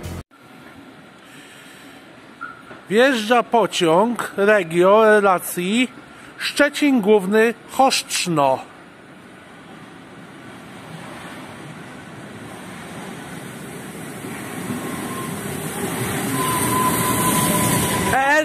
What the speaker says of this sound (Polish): Wjeżdża pociąg Regio relacji